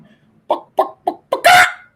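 A man imitates a chicken with his voice, giving four short, evenly spaced clucks and then a louder, drawn-out squawk, close and with no other sound around it.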